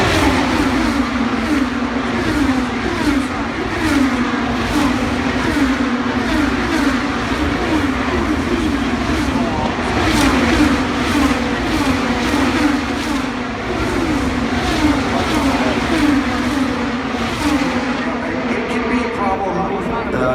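IndyCar race cars at the Indy 500 roar past continuously, a dense, loud engine drone with repeated pass-by swells, while a commentator talks throughout over the racing.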